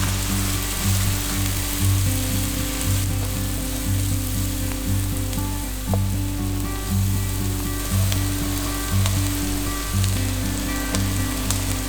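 Onions or aromatics sizzle and fry steadily in a hot pan for a tuna pie filling, with a constant crackling hiss and occasional soft stirring, no voices.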